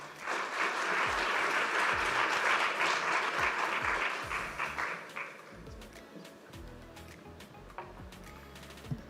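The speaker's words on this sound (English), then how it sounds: "A warm round of applause for Sharlina" Audience members at a fisheries and aquaculture conference give a warm round of applause, clapping strongly for about five seconds before it thins into scattered claps and room noise with some low thumps.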